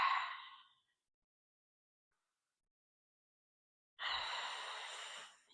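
A slow, audible breath during a seated yoga twist: a soft exhale fades out, a few seconds of silence follow, then a long, steady, breathy inhale or exhale sounds close by.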